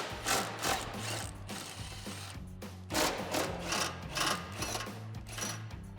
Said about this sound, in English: Now we'll remove the two cross members here and here using our 13mm socket.